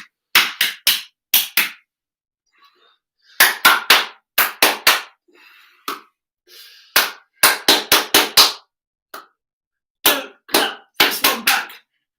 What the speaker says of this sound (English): can you copy back what I clap?